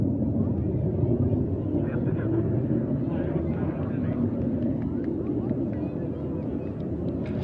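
A Soyuz booster rocket carries the Progress 84 cargo spacecraft from Baikonur about a minute into flight, near maximum dynamic pressure. A steady, dense, low rumbling roar holds at an even loudness throughout.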